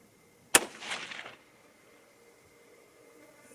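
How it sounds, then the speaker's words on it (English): A single sharp rifle shot from a 6mm ARC rifle, loud and close, with a brief echo trailing off into quiet outdoor background. "let's switch over to my other rifle, shoot the exact same 3"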